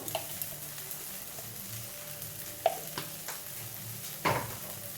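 Spices such as red chilli, coriander-cumin and fennel powder being fried and stirred in a pan, with a soft, low sizzle and a few sharp scrapes and clinks of the spoon.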